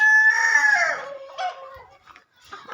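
A chicken being caught and tied lets out a loud, drawn-out squawk up close, followed by a few shorter agitated clucks.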